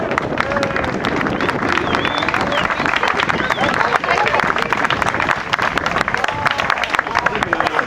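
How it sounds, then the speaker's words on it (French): A crowd applauds a women's quadrathlon team, steady dense clapping and cheering throughout, fairly loud and continuous with general crowd noise. "Je vous demande vraiment de les applaudir chaleureusement"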